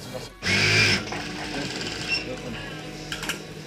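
A sewing machine stitching a pillowcase with a diamond-quilted outer layer runs in a steady, close whirring burst, then continues more softly with short bursts later on, alone with no talk.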